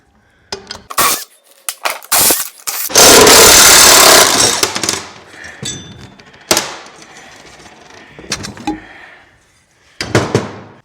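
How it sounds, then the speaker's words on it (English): Hand tools strip bolts from a large alternator: sharp metallic clanks and clatters arrive in irregular bursts, with a sustained loud rattling rasp in the middle, close and loud with quiet gaps between. "Now I'm just going to remove every bolt I can see, get this stripped down"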